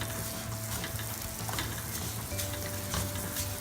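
Vermicelli for sawine stirred in a pot, a steady close sizzle with rhythmic scraping of the spoon against the pot, no voices.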